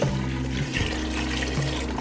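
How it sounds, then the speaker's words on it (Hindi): Water poured into a cooking pot of cleaned chicken feet for a homemade soup, a steady continuous running and filling sound heard close up with no talking. "चलिए अब हम इसमें पानी ऐड करेंगे।"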